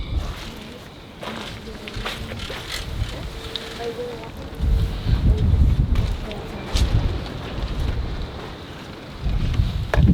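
Wind buffets the microphone in low rumbling gusts on a cold, muddy day, growing stronger partway through, with faint voices in the background.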